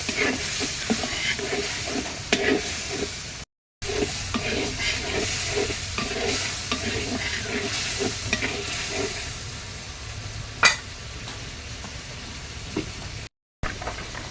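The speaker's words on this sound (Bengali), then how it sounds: "ইচা মাছগুলো ভালোভাবে কষিয়ে নেব" Ilish-style small prawns (icha) being stir-fried with spices in a pan, a steady close sizzle with scraping stir strokes throughout, briefly cut out twice.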